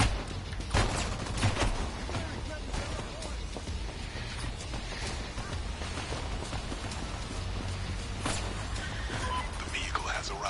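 Rapid, dense gunfire rattles continuously through a heist shootout in the Crime Boss Rockay City video game, loud and close, with sharp cracks standing out and voices talking over the barrage.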